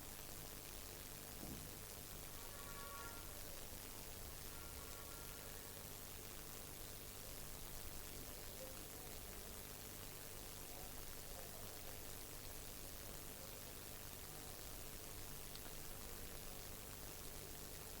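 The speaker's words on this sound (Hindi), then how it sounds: "जहां पर बरसात लगातार पड़ रही है, रुक रुक कर बरसात हो रही है" Steady rain pours over farm fields in Haryana, a dense, unbroken hiss that stays even and fairly loud for the whole stretch, with no voices over it.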